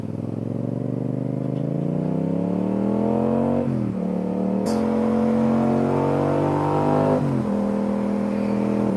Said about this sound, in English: The sound of this motorcycle is just absolutely amazing.